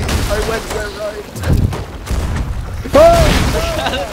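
Ship cannons firing in the Sea of Thieves pirate game, several booming blasts and rumbling impacts over a few seconds, with a player talking through the gunfire.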